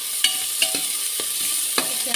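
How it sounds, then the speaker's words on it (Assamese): Vegetables fried with sugar for pulao are stirred in a pan: a steady sizzle runs throughout, broken by about six sharp scraping clinks of the spoon at irregular intervals, close and clear with no talking. "এতিয়া লৰাই লৰাই এনেকৈ অলপ সময় ভাজি"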